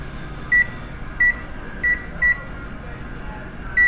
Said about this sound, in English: Set the old timer to 3 hours.